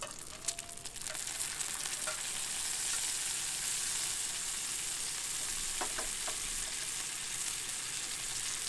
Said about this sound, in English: First thing I'm going to throw onto the griddle is the bacon